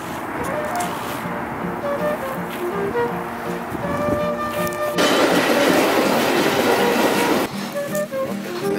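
An underground train rolls along its rails with a steady, loud rumble and rattle heard from inside the carriage, the noise stepping up partway through.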